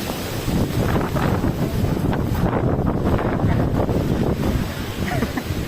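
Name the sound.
strong wind gusts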